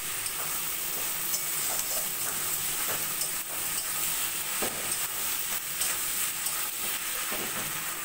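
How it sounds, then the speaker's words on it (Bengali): Ground spices and ginger-garlic paste are stir-fried in hot oil for mutton curry, giving a steady close sizzle and hiss with scraping stirring strokes scattered throughout and no talking. "এবার ভালো করে মশলাটা কষিয়ে নেব।"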